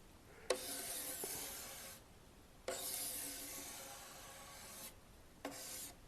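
Silver Tip epoxy grain filler spread across wood with a scraper, laid on diagonally to the grain, giving three broad rasping strokes, each opening with a faint click, close and fairly quiet, with no voices.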